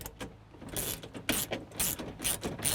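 Ratchet wrench tightening bolts while installing a Diabolical Inc Slipstream XLS on a 2015 Jeep Wrangler Unlimited JKU: a run of close, crisp ratcheting bursts repeating about every half second, with no talk.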